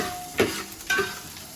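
Cumin seeds tipped into a hot pan for curd rice, two short bursts of stirring and sizzle close by, then a soft steady frying hiss with no voices.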